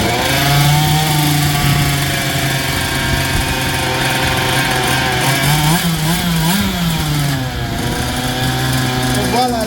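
Small petrol engine of an RS5 Modelsport T13 large-scale RC car running after starting, a loud buzzing two-stroke drone that rises and dips in pitch, heard close, with someone talking over it.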